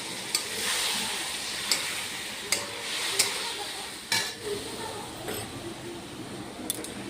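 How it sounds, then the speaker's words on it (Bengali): Spice paste of turmeric, cumin and green chili frying in a pan, a constant hiss broken by several sharp spoon taps and scraping strokes at irregular intervals. "এর মধ্যে হলুদ দিয়ে এই মশলাটা এর মধ্যে ঢেলে দিচ্ছি। মশলাটাকে ভালোভাবে কষাবো।"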